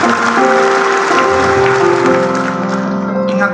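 A church congregation applauding, a dense sustained clapping from a full hall under ringing keyboard chords, fading slightly toward the end.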